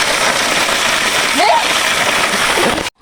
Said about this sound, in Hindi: एकदम साफ पानी आता है इधर से, एकदम पूरा साफ पानी आता है